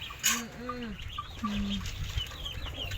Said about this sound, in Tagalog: Ay, tandang.